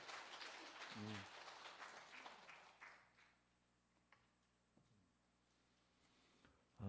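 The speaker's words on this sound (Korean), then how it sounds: "두 분이서 박수 한번 할까요" Brief congregation applause during a Sunday church service, a short burst of clapping that fades within a few seconds, followed by quiet room sound with a few isolated knocks.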